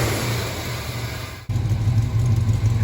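A 1970 Dodge Dart Swinger engine, freshly ignition-tuned, runs close by at a steady, fast idle with a low throbbing rumble; the sound cuts out briefly midway and picks up again a bit louder.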